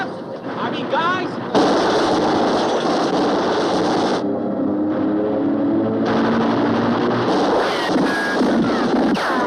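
Guns aboard a World War II PT boat fire in sustained loud bursts, dense and continuous with a brief lull midway, over engine rumble and shouting voices.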